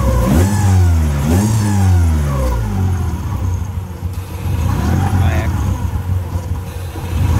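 A Honda Civic EK engine runs steadily after a timing belt replacement, a loud close rumble with a rev rise near the start that settles into a steady idle.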